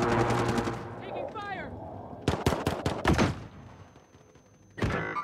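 Gunfire in a Call of Duty match: a loud burst of rapid shots, a brief gap, then another short volley, with a voice heard near the start.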